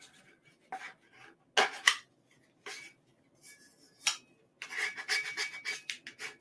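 A squeegee burnishes a sublimation wrap onto a tumbler: soft, close scraping and rubbing strokes in short irregular bursts, ending in a quicker run of rasping passes, with no talk.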